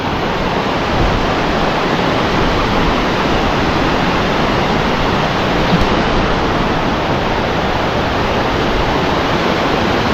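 Steady rushing water of the Lablabasan River in Gregorio del Pilar, Ilocos Sur, flows loudly and continuously, a broad unbroken roar with no voices.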